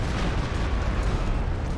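In a Company of Heroes 2 battle, a Goliath demolition charge destroys an anti-tank gun in a loud, sustained fiery blast, with a dense low rumble that fills the whole moment.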